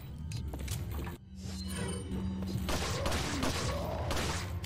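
Gunfire in Resident Evil 4 aimed at a shield-carrying enemy: a series of sharp, close shots with metallic clinks, set against a constant background game soundscape.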